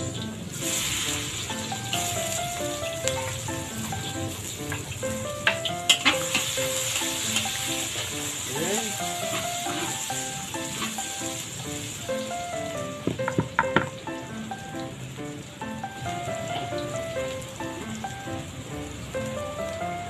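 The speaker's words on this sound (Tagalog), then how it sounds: "ang ating hamonado roll, igisa na natin sa bawang, sibuyas" Hamonado roll sautéing with garlic and onion in a pan for a New Year's Eve meal, a steady close sizzle running throughout with occasional spatters and utensil clicks over faint background music.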